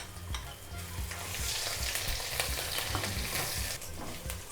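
Ginger garlic paste frying with browned onions in a pan, a steady hissing sizzle with occasional stirring scrapes and crackles, close and fairly quiet.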